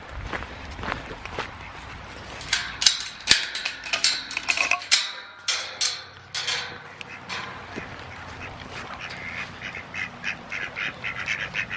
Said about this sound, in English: You in heaven, ducks, with the rain today?